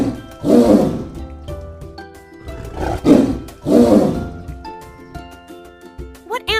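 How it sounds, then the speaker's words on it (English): A tiger roars three times, loud and close, each roar a deep rising-and-falling bellow separated by short pauses, with a few higher trailing calls at the end. "It's a tiger!"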